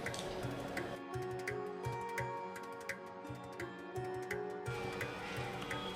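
A spoon stirs a thick halwa mixture of wheat flour, gram flour and semolina in a pan, making soft repeated squishing and scraping strokes in a steady rhythm, close and fairly quiet.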